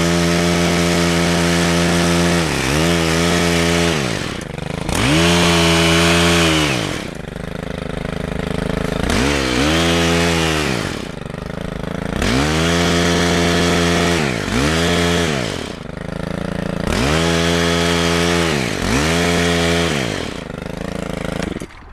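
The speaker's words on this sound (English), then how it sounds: "I have one that's got a hedge trimmer attached, and this makes it really easy." A hedge trimmer mounted on a pole cuts back ornamental grasses in late winter, its loud motor revving in repeated bursts that rise and fall in pitch between cutting passes, close by and with no talking.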